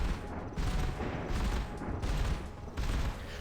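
In the Modern Warships game, a Bofors Stealth naval cannon fires repeated double shots, heavy booming blasts that pulse in a steady rhythm over a dense rumbling battle din.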